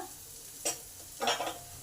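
Chopped onion with salt frying in hot oil, heard as two short bursts of sizzle and stirring scrape, the second one louder and longer, over a quiet background.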